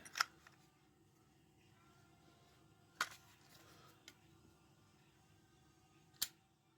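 Shutter clicks of a Smena-8M film camera being released, three sharp isolated clicks spaced a few seconds apart over a quiet room background.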